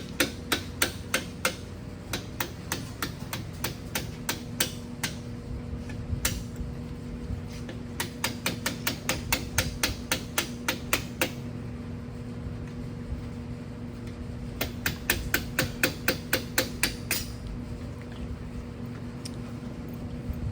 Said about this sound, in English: So we're going to punch out the pins.